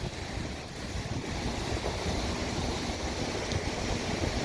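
Floodwater rushes through Wausau's overflowing downtown kayaking course, a loud, steady roar of churning water mixed with wind buffeting the microphone, continuous and without voices.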